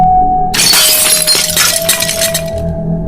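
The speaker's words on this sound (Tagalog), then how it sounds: "Basag na ang salamin" A mirror shatters as a horror-story sound effect, a loud close burst of breaking glass that crashes in and keeps tinkling and clinking with scattered shards over a steady low hum for several seconds.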